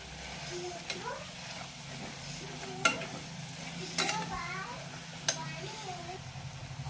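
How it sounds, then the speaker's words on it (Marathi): Turmeric root being stirred and fried in a pan with coarsely pounded ginger-garlic paste, a soft continuous sizzle with scraping stirs, while a cat meows several times nearby and someone talks over it. "अशीच हळद परतत आहोत."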